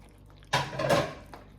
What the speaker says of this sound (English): All right, I'm gonna stir all that in.